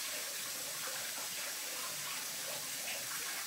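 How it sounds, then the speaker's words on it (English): Cold water running steadily from a kitchen tap into the sink, a continuous close, even hiss with no talking. "So, Nora, you want to run some cold water there?"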